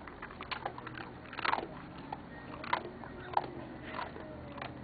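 A pet crunching and chewing hard food up close: a series of quiet, irregular crisp bites and crunches with soft chewing between them, no talk.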